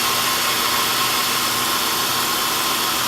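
A Honda Accord V6 idles with one ignition coil unplugged, giving a steady, unbroken mechanical hum and rumble that stays loud and even throughout.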